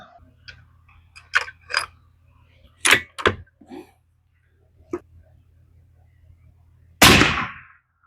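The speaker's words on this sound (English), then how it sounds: "I'm going to fire another one to see where we come in at." A Savage 110 Timberline rifle chambered in .270 Win fires a single loud, close shot near the end, after a stretch of quiet clicks and small handling noises.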